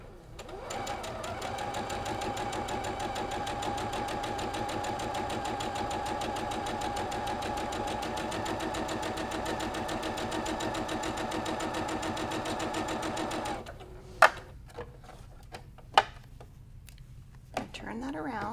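A sewing machine stitches a Friendship Star Variation quilt block, running in a steady, close whir for about thirteen seconds before stopping, followed by a few light clicks and handling sounds.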